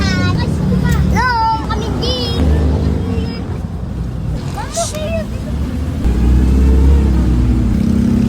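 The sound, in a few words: jeepney engine running as passengers ride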